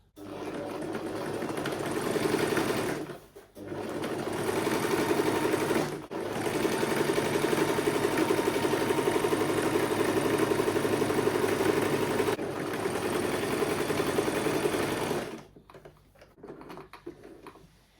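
A sewing machine runs steadily along the seam of a butterfly bubu dress, in several long continuous bursts separated by brief pauses, fairly close and loud, with no voices.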